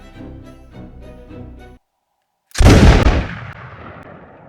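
Single loud, sharp flintlock pistol shot fired up close, cracking suddenly after a brief silence and decaying over about a second, preceded by a faint tonal rattling passage.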